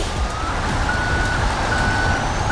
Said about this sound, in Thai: โอ้ยเสียงถอยโคตรดีอ่ะ